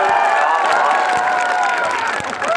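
Rally crowd clapping and cheering after being urged to applaud, a dense, steady wash of hands and voices filling the whole stretch with some shouting mixed in.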